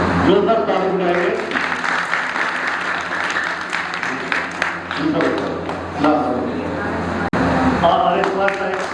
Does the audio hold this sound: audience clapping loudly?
yes